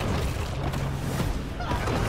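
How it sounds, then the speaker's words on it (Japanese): An explosion in the shark game Maneater, heard as a dense, sustained rumbling blast with a booming low end and crashing debris, loud and filling the whole short stretch with no talk over it. "爆発。"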